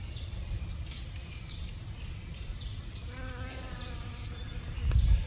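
Bees buzz steadily outdoors among flowering hydrangeas in a Japanese garden in June, alongside a constant high-pitched chirring, with a faint bird call now and then.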